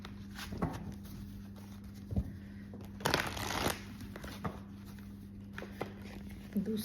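A tarot deck is shuffled and handled close by, with soft papery riffles, taps and card slaps scattered over several seconds above a faint steady hum.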